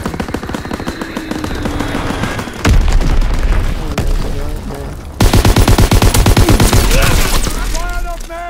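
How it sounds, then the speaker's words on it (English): An incoming enemy bomb explodes in Call of Duty WW2 amid dense automatic gunfire, with loud booms and rapid bursts of shots in a chaotic battle scene. "Enemy bomb incoming! Get to cover!"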